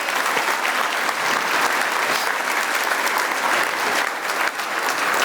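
A church congregation applauds during a sermon, a loud, dense and continuous burst of clapping from many hands that holds steady throughout, with no speech over it.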